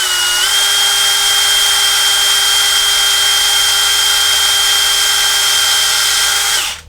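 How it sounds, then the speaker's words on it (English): A power drill bores a hole into the end of a stick, whining steadily at high speed for several seconds, its pitch dipping slightly at the start and winding down at the end. "you're going to pick an area in the end of your stick, and you're going to drill a hole in there"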